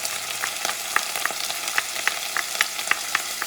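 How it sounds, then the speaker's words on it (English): Garlic fries in a hot pan for a Puerto Rican pigeon pea stew, a steady dense sizzle with light, regular scraping ticks of stirring, close and without speech. "You don't want the garlic to burn, so you do this for a few seconds."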